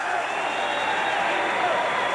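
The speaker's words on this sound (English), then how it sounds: "a nice hand from the Kansas crowd that is here" A Kansas crowd at a basketball game gives steady, continuous applause from start to finish, a dense wash of clapping with no pauses.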